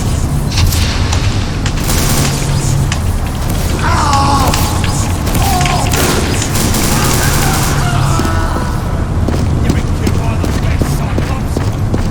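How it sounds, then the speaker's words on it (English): In a combat video game, a heavy grenade blast booms amid continuous loud gunfire and clattering battle noise, with players talking throughout. "Yo, nice grenade."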